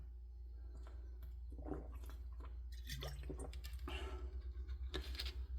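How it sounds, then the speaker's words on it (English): Someone drinks water up close, with a short run of wet sips and gulps over a steady low hum and no talk. "let me get a drink of water"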